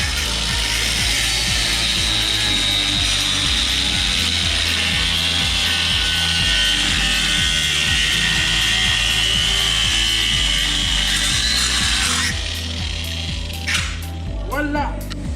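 A power tool grinds through a small nut on the suspension of a classic BMW E30, a loud harsh whine holding steady for about twelve seconds before cutting off into scattered clanks and handling noises.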